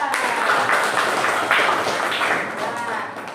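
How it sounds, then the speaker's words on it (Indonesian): Applause from a classroom audience for a student group's presentation, a steady patter of hands under ongoing talk that slowly fades. "tepuk tangan untuk kelompok 3"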